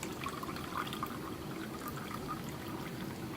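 Water pours steadily into a jar, a continuous soft splashing stream at low level with no talking.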